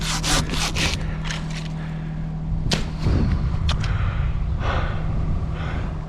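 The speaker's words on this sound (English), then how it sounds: "Let's just get this out of the way with my handsaw." Handsaw cutting through dead cherry tree wood outdoors, a few quick rasping strokes at the start and then scattered scraping bursts over a steady low hum.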